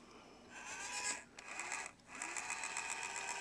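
A 12 volt gear motor overdriven on 24 volts whines steadily with a high, slightly warbling tone, briefly dipping twice as it slows or reverses, close and with no talk.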